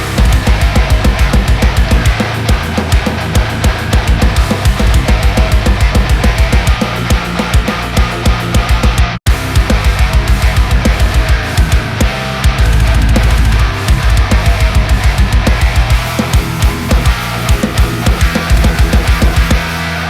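Heavily distorted 7-string electric guitar played in a loud, dense riff with rhythmic chugging and a brief drop to silence midway, continuous and up front.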